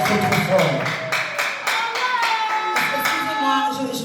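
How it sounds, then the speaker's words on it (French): Audience clapping for Madame Zadora at a birthday celebration in a grand hall, steady rhythmic hand claps carried under continuous talk from a voice in the foreground. "Madame Zadora, qu'on applaudit encore trop fort."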